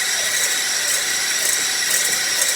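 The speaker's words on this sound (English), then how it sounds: "now we're just gonna whisk, whisk, whisk. I'm gonna do it on the highest setting." Electric whisk running on its highest setting whips coconut sugar and coffee into dalgona, a steady loud high-pitched mechanical whir throughout with no voices.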